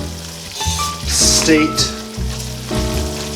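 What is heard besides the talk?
stirring a sizzling oil and flour roux for gumbo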